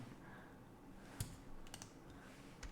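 A computer keyboard is tapped during Python debugging, with a few sharp, close key clicks standing out against a quiet room hum.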